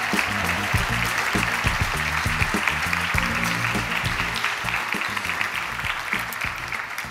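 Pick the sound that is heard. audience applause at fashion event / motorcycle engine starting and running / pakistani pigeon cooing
audience applause at fashion event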